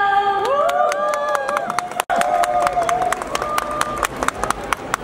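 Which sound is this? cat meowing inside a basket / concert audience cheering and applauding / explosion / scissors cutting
concert audience cheering and applauding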